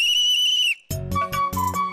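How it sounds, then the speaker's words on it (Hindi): A referee's whistle shrills in one sustained blast to start a lemon-and-spoon race, then music with sharp hits follows right after. "आप सोच क्या रहे हैं, बजाए ना सीटी"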